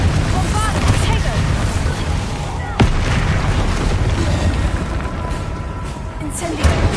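Explosive spells go off in a dense magical battle in Hogwarts Legacy. Booms and bursts, one sharp crack among them, rumble under a steady wash of battle noise, and voices talk throughout.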